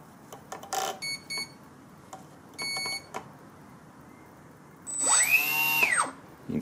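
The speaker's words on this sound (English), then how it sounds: "You can see the prop stops hard when we put the throttle down now." ZOHD Drift model plane setup with brushless motor, propeller and ESC: several short electronic beeps and tones at first, then a brief rising-and-falling motor whine as the prop spins up and brakes hard to a stop.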